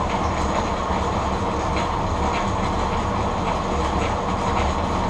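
A hundred-year-old W.F. & John Barnes lathe runs steadily through its change-gear drivetrain, giving a continuous mechanical rumble with a faint repeating clatter, close and fairly loud, with no voices.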